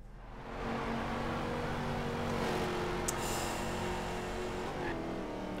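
Off-road car in Forza Horizon 2 rolling past with a steady engine drone that swells and holds, a sustained mid-level roar with a brief sharp click partway through and no talk.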